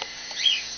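A single faint, brief high chirp from hand-fed baby cockatiels rises out of quiet room noise and fades quickly.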